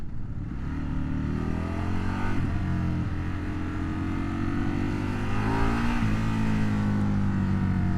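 A 2025 Indian Sport Scout motorcycle engine revs hard and accelerates up close, its loud, steady mid-range roar rising in pitch with a couple of brief dips as gears shift, and no talking over it.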